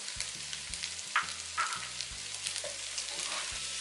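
Vegetables stir-fried for Bangladeshi-style fried rice sizzle steadily in a pan, with repeated low clanks of a utensil scraping and tossing the ingredients at close range.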